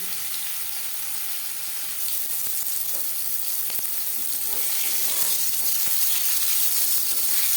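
Fish pieces fried in a pan, giving a loud, continuous sizzle with sharp pops and spits scattered through it, building a little louder toward the end, heard up close without speech.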